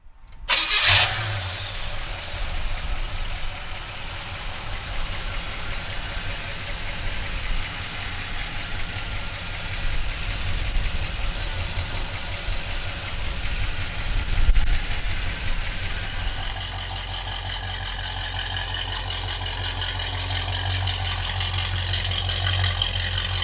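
A 1970 Pontiac Le Mans engine cranks and catches with a loud burst, then settles into a steady, rumbling idle that continues for about twenty seconds.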